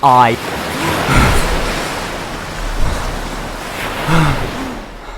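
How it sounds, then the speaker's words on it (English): Pacific Ocean surf washes in a steady, loud rush with swelling waves and some wind noise, while a voice speaks briefly over it. "I'm now in the middle of the Pacific Ocean"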